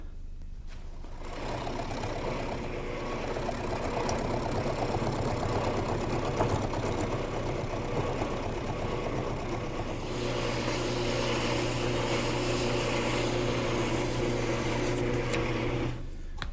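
Wood lathe spinning a large, heavy workpiece held in a jig at a low 500 RPM, a steady, loud motor hum with a constant whine that grows brighter and louder partway through, continuous and close.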